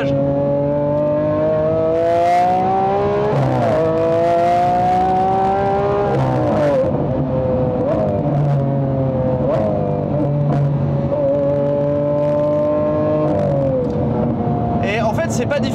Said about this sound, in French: Oh, le bruit sur les rétrogradages.